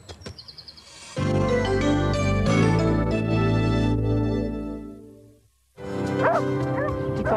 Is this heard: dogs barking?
yes